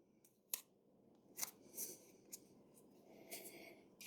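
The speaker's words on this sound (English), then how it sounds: "So I'm going to cut some masking tape and just cut it square with the scissors," Scissors snip through masking tape in a few sharp, separate cuts with crisp crunching and rustling between them, close and quiet, during work on replacing a front door.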